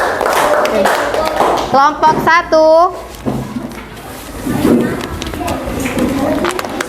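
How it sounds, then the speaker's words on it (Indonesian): A classroom applauds a student group in short bursts of clapping, mixed with a teacher's and students' talk. "Tepuk tangan dulu. Kelompok 3."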